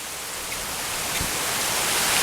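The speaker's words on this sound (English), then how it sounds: "it is raining like my grandmama used to say, like a cow peeing on a flat rock" Heavy rain pouring down on a parking lot, a dense steady hiss of drops close by that grows slightly louder, with no voices.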